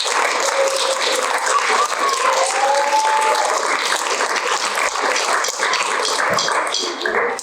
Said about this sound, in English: Let's give a round of applause for our poets.